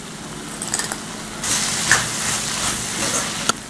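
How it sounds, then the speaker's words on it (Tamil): Ginger garlic paste sizzles as it is added to a hot pan for Indian-style masala pasta, a steady close frying hiss that swells after a soft start, with a brief sharp pop near the end. "இஞ்சி பூண்டு பேஸ்ட் சேர்த்துக்கிறேன்."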